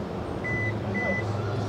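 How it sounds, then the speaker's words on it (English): Two short electronic beeps, spaced about half a second apart, from the power liftgate of a 2023 Kia Carnival during a height reset, sounding over a low background rumble. "you're going to hold this button until you hear the beeps"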